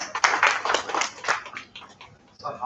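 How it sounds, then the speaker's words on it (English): Audience applause at an education summit, a brief patter of clapping from a crowd that thins out over a couple of seconds. "Please give a big round of applause."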